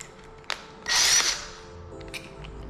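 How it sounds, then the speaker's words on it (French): A cordless screwdriver fitted with a 10 mm socket bit gives a short, loud whirring burst up close while working on suspended ceiling framing, with faint clicks before and after. "permet en fait de mettre une douille directement dedans et de pouvoir visser à la visseuse"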